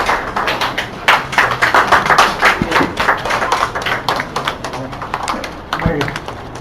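Audience applause at a journalists' tribute program in Hyderabad welcoming a speaker, a steady patter of many hands with occasional thumps, fairly close and continuous, with voices murmuring underneath.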